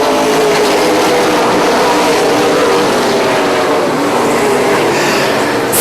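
Super late model race cars roar around a short oval track at speed, a loud, continuous engine drone that barely wavers from start to finish.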